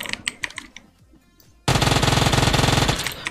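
Automatic gunfire in the PUBG video game rattles out in a rapid, loud, even burst lasting over a second, preceded by scattered quieter clicks and taps.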